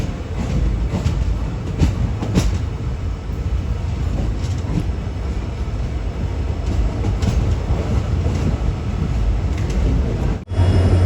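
Passenger train locomotive departing a dead-end station at Chamarajanagar on the Mysuru line, a loud steady rumble and roar with faint clicks, close and continuous.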